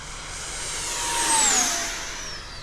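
An RC EDF jet model of an L39 on a full-throttle speed run, its ducted-fan whine swelling as it approaches and fading away with a falling pitch shift; no voices.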